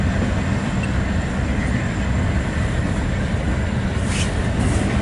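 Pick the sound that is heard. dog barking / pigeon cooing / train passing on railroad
train passing on railroad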